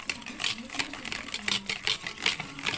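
Margarine is beaten in a bowl for an eggless red velvet biscuit dough, giving rapid rhythmic scraping and tapping strokes close by, with a voice speaking over it.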